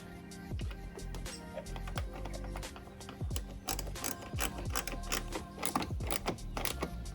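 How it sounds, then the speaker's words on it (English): A ratchet tightens 10mm tail light bolts on a BMW F32 440i, giving rapid close mechanical clicking in short bursts, with low thuds and handling noise between them. "Now we throw these 10mm bolts back on"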